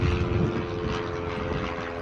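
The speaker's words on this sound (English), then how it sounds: "a lot of planes flying over" Low droning roar of airplanes passing overhead near a moored sailboat, a steady rumbling engine hum with a faint tonal whine, heard alone at moderate distance.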